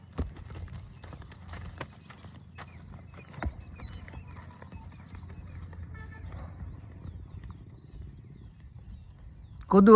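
Soft, irregular hoof clip-clops of a Kathiawari horse over a low rumbling background, with faint insect chirps; a louder burst of noise cuts in right at the end.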